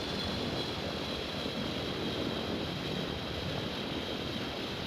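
Steady, unbroken engine drone from an aircraft in the Infinite Flight simulator game at an Albuquerque air show, a constant broadband roar with no voices.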